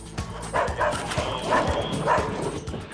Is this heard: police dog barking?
yes